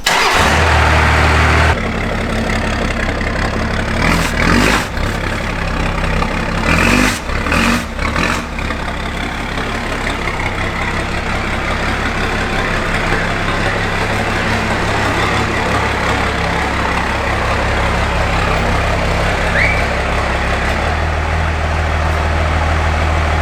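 A Chevy truck fitted with a Cummins 12-valve diesel cranks briefly and fires up, then settles into a loud, steady idle with a low rumbling clatter close to the microphone, with no talking.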